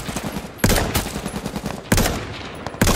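Gunfire in the video game H1Z1, with a rapid patter of quieter shots broken by three loud, sharp blasts spaced roughly a second apart, and no talk.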